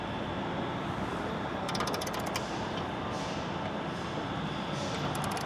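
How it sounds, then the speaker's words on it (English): A ratcheting torque wrench set to 75 inch-pounds tightens intercooler pipe bolts on a 2025-2026 Ford Explorer ST. Brief, faint runs of quick clicks sit under a steady wash of background noise. "So now with the torque wrench, we're gonna get this set to 75 inch-pounds."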